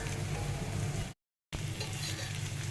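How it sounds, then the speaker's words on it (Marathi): Bangda (mackerel) frying in oil over a slow gas flame, a soft, steady sizzle that cuts out briefly to silence and then resumes. "आता आपण दुसरी बाजूसुद्धा आहे ना स्लो गॅसवर एक दहा मिनटं तरी भाजून घेऊया"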